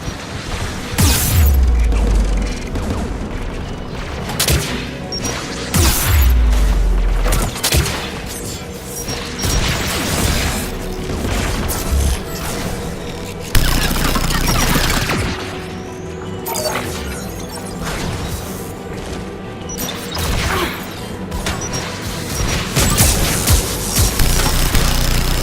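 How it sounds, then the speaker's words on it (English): Anti-aircraft guns in Mass Effect 3 pound away in a dense, continuous barrage of heavy booms and crashing blasts, loud and close, with deep low thuds recurring throughout and no speech over them. "AA guns ahead of us."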